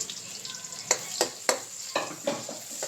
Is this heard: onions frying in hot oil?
yes